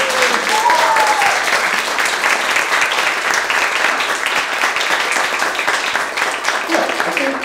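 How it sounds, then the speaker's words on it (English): An audience at a literary reading series applauds its authors with steady, dense clapping that stays loud throughout, and a voice can be heard faintly over it. "Round of applause for both of our authors."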